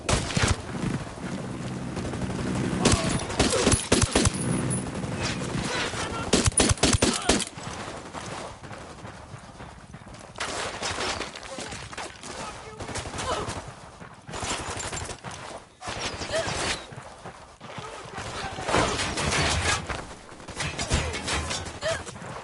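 Bursts of automatic and single gunfire from a Ghost Recon video game firefight, loud and dense at first, then continuing in irregular clusters of shots with short lulls, no talk over it.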